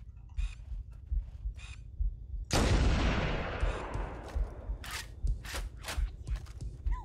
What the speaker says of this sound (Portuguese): Que tão satisfatório acertar um tiro de sniper nos outros